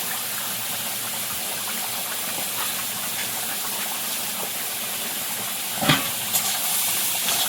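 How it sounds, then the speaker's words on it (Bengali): Shrimp frying lightly in a pan with turmeric and salt gives a steady, close hissing sizzle throughout, with a brief louder crackle near the end and no voices. "এদিকে চিংড়িটা হালকা একটু ভেজে নেব। হলুদ গুঁড়ো দেবো আর লবণ দেবো।"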